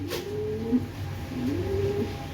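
A pair of large domestic pigeons coo softly at close range, low rounded calls rising and falling twice over a steady background hum.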